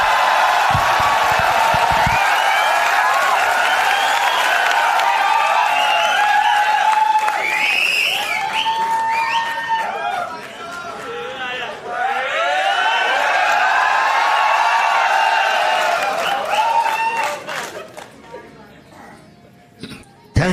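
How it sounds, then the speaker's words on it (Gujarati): A live Gujarati comedy show audience applauds and cheers to welcome legendary comedian Dinker Mehta, a dense, sustained wall of clapping with whoops and crowd voices that swells, dips briefly midway, then fades toward the end. "દિનકર મહેતા માટે જોરદાર તાળીઓ થઈ જાય"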